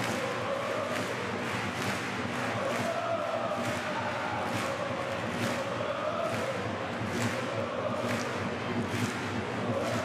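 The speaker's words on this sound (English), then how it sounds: "in front of this partisan crowd" Partisan home crowd at a EuroCup basketball final in Bologna, a constant dense roar of chanting and cheering filling the arena, with rhythmic swells and thumps pulsing steadily throughout.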